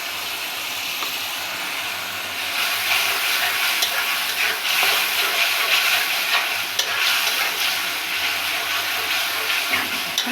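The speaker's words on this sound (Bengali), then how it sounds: "মশলাটা ভালোভাবে কষিয়ে নেব" Spice masala fries in hot oil while being stirred, a continuous close sizzle broken by scraping strokes of the spoon, and it grows louder partway through.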